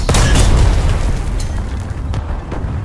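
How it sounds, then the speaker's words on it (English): A tank cannon fires in War Thunder ground battle, a loud, close boom that opens the clip and rolls into a long rumbling decay, followed by a softer thump. "I shot that thinking it was a tank."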